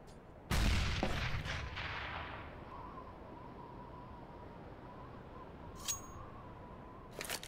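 An incendiary grenade in CS:GO lands with a sharp loud burst, then a fading hiss with a faint steady tone and a couple of small metallic clicks afterward.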